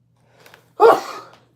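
A single close sneeze bursts out sharply after a faint breathy intake, then tails off in a short exhale; no talk is heard.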